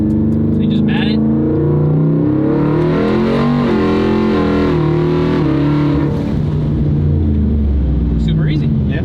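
A 1700HP truck in 4x4 second gear at full throttle roars loudly and close, engine pitch rising in repeated surges, with people talking over it and a brief hiss near the end.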